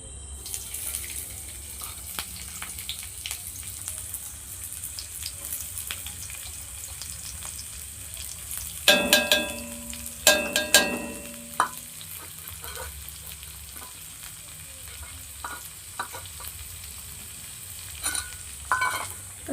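Onions fry in hot oil over a low gas flame, a steady quiet sizzle broken by a few louder clanks and stirring scrapes midway, with no talking.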